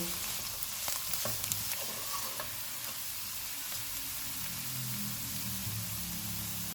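Carrots and a green chilli sizzle and hiss in a pan over medium heat, with scraping stirs and small clinks, steady frying noise throughout without talk.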